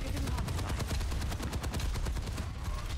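Enemy team gunfire in the Overwatch 2 shooter, a rapid, steady stream of automatic shots fired in quick rhythmic succession, loud and close, without any talking.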